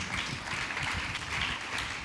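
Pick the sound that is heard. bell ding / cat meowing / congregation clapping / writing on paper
congregation clapping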